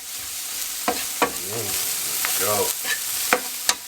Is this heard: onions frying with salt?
yes